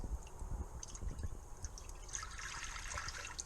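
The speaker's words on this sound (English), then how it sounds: "What you saw coming out of my tap right now is rainwater." Harvested rainwater runs from a home tap in a steady trickling stream, close and fairly quiet, with a brighter splashing texture building toward the end.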